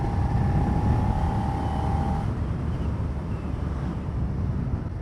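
A Suzuki SV650X motorcycle rides along at cruising speed, its steady engine drone buried under heavy rushing wind buffeting the microphone, with a faint brief whine early on.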